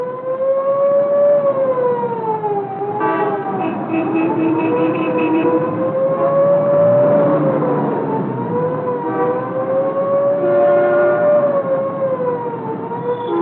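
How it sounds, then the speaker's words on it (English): A loud wailing siren rises and falls continuously over steady traffic rumble, close and dominant throughout, with a second siren tone layering in partway through. "Somewhere out there is an ambulance with a mission."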